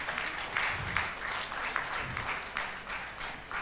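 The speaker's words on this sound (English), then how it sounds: "A big round of applause" Audience applause at a 2023 conference roundtable, a dense patter of many hands clapping steadily at moderate volume, sounding somewhat distant.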